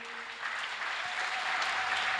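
A church congregation claps in praise during a service, a dense, sustained round of applause that swells slightly and carries on steadily to the end.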